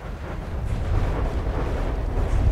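Advanced cannon shells exploding in From the Depths, a continuous rumbling roar of overlapping blasts that stays loud and heavy throughout with no clear gaps.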